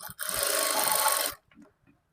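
A sewing machine runs in one steady, close whirring burst for just over a second while stitching a maggam embroidery work blouse, then stops, leaving a few faint handling clicks.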